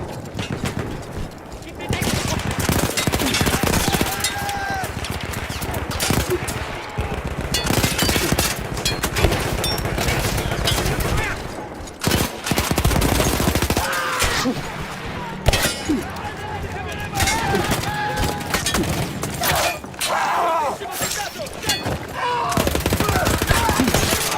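A Battlefield 1 machine gun fires in dense, sustained, loud bursts in a mountain battle with Austro-Hungarian troops, mixed with other gunfire and explosions, while voices talk over it.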